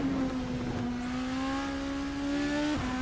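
A race car engine in the sim racing game Assetto Corsa climbs steadily in pitch under throttle, a thin buzzing whine that dips briefly near the end, fairly quiet throughout.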